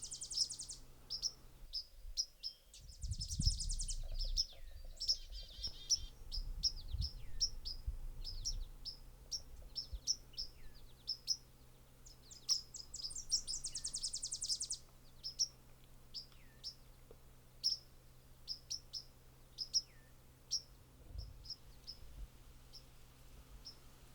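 A white-throated sparrow near its nest sings outdoors, with high chirps and short calls repeated steadily throughout. A soft low rumble runs underneath.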